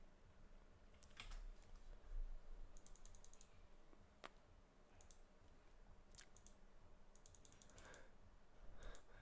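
Computer keyboard keys pressed in scattered clicks and short bursts of rapid tapping, faint and close, with no talking.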